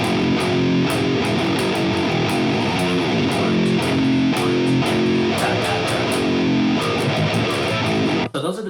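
Electric guitar plays a riff, a dense, steady rhythmic pattern with full sustained chords running continuously and loudly for about eight seconds before cutting off.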